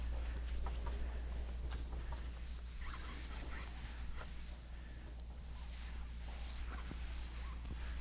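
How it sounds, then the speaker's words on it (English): A cotton rag buffing excess wax off a wooden surface makes faint, steady rubbing and swishing strokes, quiet and continuous with no talk. "You got pretty much all the wax off the surface with your cotton towel."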